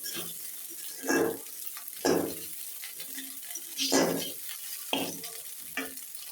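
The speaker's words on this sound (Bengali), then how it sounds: "এখন সব উপকরণ মিশিয়ে নেব" Leftover roti pieces being mixed with egg and other ingredients for a home recipe, giving about six separate stirring or scraping bursts at steady intervals, close and moderately loud over a quiet background with no talk.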